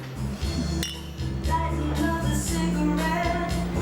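Glasses clink together in a toast between two women drinking at a bar, a short bright chink rising over steady background music and room noise.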